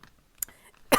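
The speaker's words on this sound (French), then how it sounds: "c'est une petite toux" A single small, sharp cough lands right at the end, preceded by a faint throat click and soft breathy sounds.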